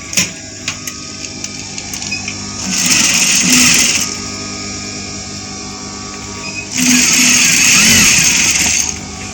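A sewing machine stitches a dress panel in two steady bursts of running, each a few seconds long, with quiet handling of fabric and small clicks in between.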